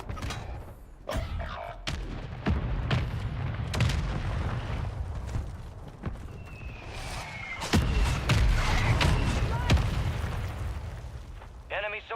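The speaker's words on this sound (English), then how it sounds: "Hostile mortar strike near your position." Mortar strike explosions in a Call of Duty match, repeated booms and bursts landing over a dense, rumbling battlefield mix, with a voice speaking in places.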